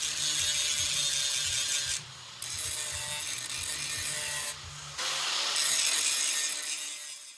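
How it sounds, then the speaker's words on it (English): An angle grinder grinds off welds on a car body panel, cutting away old spoiler and spotlight-hole welds, making a loud continuous abrasive whine broken by two brief pauses. "That way I can block out the sound of the grinder."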